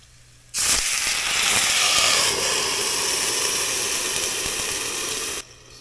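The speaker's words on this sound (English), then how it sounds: "Then we're going to add a little bit of water and throw a lid on to finish steaming them." Water added to barracuda dumplings in a hot covered pan sets off a loud, steady steam hiss and sizzle that starts abruptly and holds for about five seconds before cutting off.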